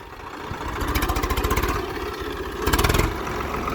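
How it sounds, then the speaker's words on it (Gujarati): A farm tractor engine idles nearby in a field with a loud, throbbing chug, rising into two short bursts of quicker, harder pulsing as it is revved slightly. "તો જોઈ શકો છો બીજું એક ટ્રેક્ટર આવી ગયું છે."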